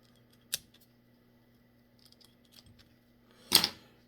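Scissors snip the excess thread on a pike fly being tied, two short sharp cuts a few seconds apart with quiet fiddling between them.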